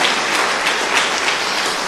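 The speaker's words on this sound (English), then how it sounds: "a round of applause for Ben and Ethan" An audience applauds two storytellers at a community storytelling event, a dense, steady wash of clapping close and loud, holding evenly for about two seconds without any voices.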